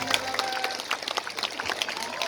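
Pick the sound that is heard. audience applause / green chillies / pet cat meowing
audience applause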